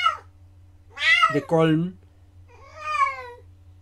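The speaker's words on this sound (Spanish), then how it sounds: "mi gato anda de loco, pero bueno, no es tan importante el ruido que hace" A pet cat meows twice indoors, a long wavering call followed by a shorter one after a pause, close and clear over a quiet room hum, with a brief bit of talk at the very start.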